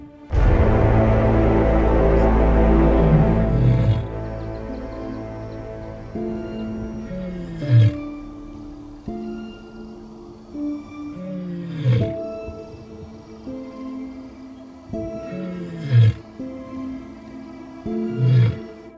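Large male lion roaring in the wild savanna near a safari vehicle: a long loud opening roar, then a rhythmic series of deep grunting roars repeating every few seconds.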